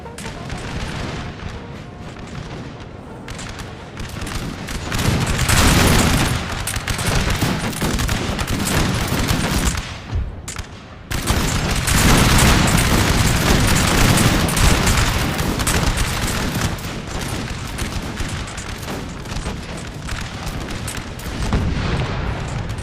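Massed musket volleys crackle and roll in a Napoleon: Total War battle, dense overlapping gunfire and booming shots that sustain loudly for the whole stretch, with a brief dip midway before the firing surges again.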